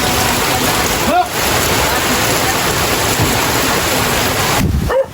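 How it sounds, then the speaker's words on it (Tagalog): A strong rushing water current roars steadily and loudly throughout, with broadband noise like a stream or outflow pouring at a fish pond where milkfish are being harvested, and a brief dip near the end. "malakas ang agos"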